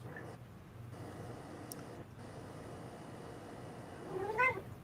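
A cat meows once near the end, a short rising call heard close over a quiet room background, with no talking.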